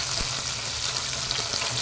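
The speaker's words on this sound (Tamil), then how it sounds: "இதையும் நல்லா வதக்கிடலாங்க." Cut okra sautés with onions in a pan for a tamarind curry, giving a continuous, close hiss of frying that stays even throughout with a couple of faint stirring taps.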